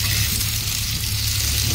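Onion and green chili fry in a pan, a loud, close, continuous sizzle with a low rumbling undertone as they are stirred, no voices present.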